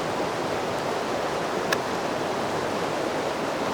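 Steady, full rushing of creek water tumbling over stepped rock ledges, an even outdoor roar that stays constant and close with no voices.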